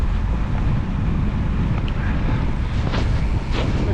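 Strong wind buffets an outdoor microphone during a bike ride, a steady loud roar with gusty low rumble throughout and no talking.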